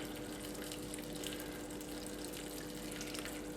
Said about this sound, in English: So just over the back of a spoon, just pour it over the top of the pudding.